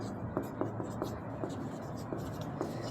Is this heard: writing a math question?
yes